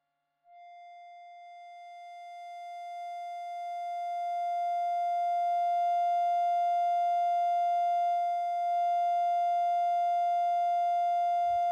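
A 699 Hz sine test tone, the F two octaves above middle C, played for a guitar pedal measurement: a pure, steady pitch that starts abruptly, grows slightly louder, holds for about eleven seconds and cuts off, with no other sound.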